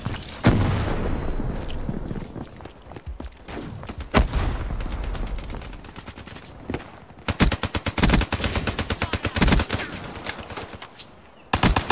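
Call of Duty Black Ops 3 multiplayer gunfire, with single booming shots early on, then long rapid bursts of automatic fire, loud and close, ending in a final burst.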